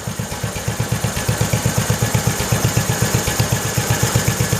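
A small Kohler engine, swapped into a 1968 112 tractor, idles steadily close by, its rapid even putter thumping at a regular pulse with a slight clattering edge throughout.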